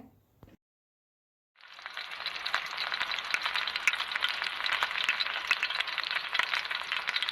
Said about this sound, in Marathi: आता गरम तेलामध्ये हे घारगे खमंग होईपर्यंत तळून घेऊया